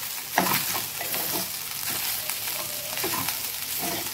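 Carrot rice with coriander being mixed in a pan: a constant low sizzle under irregular, soft scraping strokes of a spoon, close by and fairly quiet, with no one speaking.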